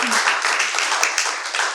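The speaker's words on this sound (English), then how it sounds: "Give them a round of applause." An audience at a panel discussion applauds, a steady wash of many hands clapping throughout the short stretch, fairly close and even, with no voice over it.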